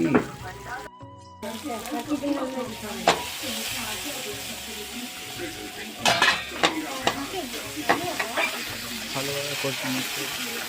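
Spices being fried and stirred in a pan as sarson pabda fish curry is prepared, a steady sizzle broken by sharp scraping clinks of a spoon, with quiet speech now and then.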